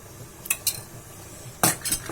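Spoon stirring fresh cream into a pan of shahi paneer gravy, with a few sharp metallic clinks against the pan amid soft scraping, close and alone without talk.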